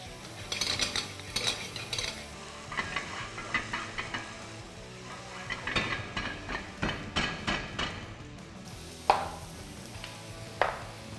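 Chopped onion going into hot oil with browned garlic for masala macaroni, sizzling while a spoon clatters and scrapes the pan in repeated bursts, close up with no speech.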